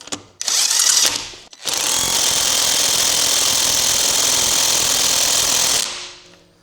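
A cheap Lidl Parkside pneumatic impact wrench tightening a wheel bolt at 400 newton metres rattles in a short burst, pauses, then hammers continuously for several seconds before stopping.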